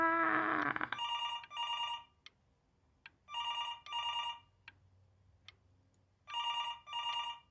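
An old-style telephone bell in the video game Before Your Eyes rings in paired bursts, three double rings separated by short pauses, clear and close, with faint ticks between and a brief voice at the start.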